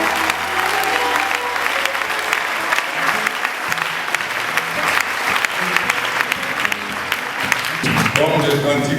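A church congregation claps and cheers in loud, sustained applause during a French-language worship service, the crowd noise filling the room while a voice speaks over it.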